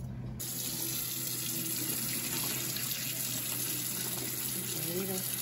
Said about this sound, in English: Let me rinse all the bones.